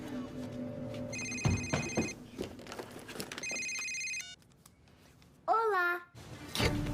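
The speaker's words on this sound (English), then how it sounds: "It's ringing, it's ringing." A telephone rings in repeated electronic trills over a noisy, busy background with chiming game-like tones and a warbling sweep, fairly faint overall.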